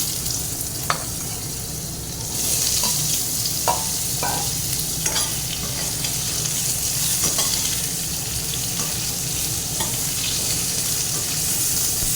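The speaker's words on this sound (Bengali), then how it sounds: "আলুটা ভাজা হয়ে গেছে" Oil sizzles steadily as boiled potatoes fry in a pan, broken by occasional scrapes and clinks of a spoon stirring, with no voices.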